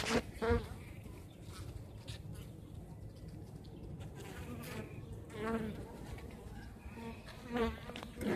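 Honey bees buzz steadily around an open beehive during an inspection, a close, continuous hum with someone speaking over it at moments.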